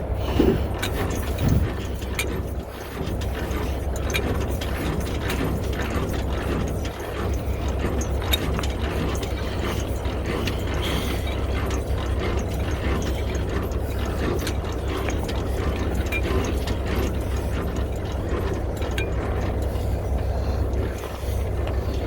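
A trailer's landing gear is cranked up with a ratchet. The clicking and gear whir run steadily for about twenty seconds over a constant low idling rumble, with no talk.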